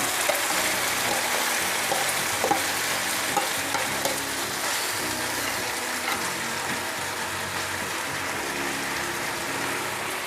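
Ground meat sautéing in a pan for ginisang giniling as pechay is added, with a steady close sizzle and occasional stirring and clinking sounds.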